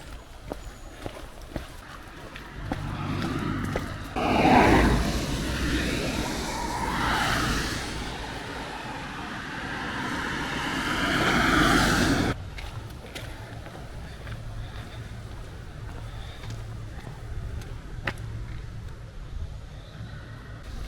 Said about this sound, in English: That sounds like a main road, Katie.